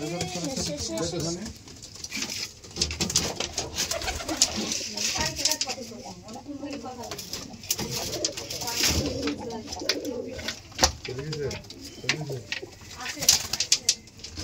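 Pigeons coo over and over at a pigeon farm, a dense chorus of overlapping throaty calls with scattered clicks and fluttering. A person speaks intermittently over the birds.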